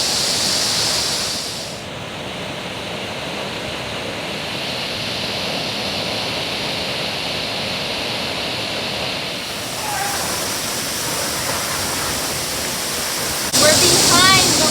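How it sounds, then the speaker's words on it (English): Steady roar of a waterfall heard from a spot behind the falling water on a Washington State hike, a loud continuous broadband rush filling the whole stretch with a brief brighter splash near the end. "We're behind the waterfall now."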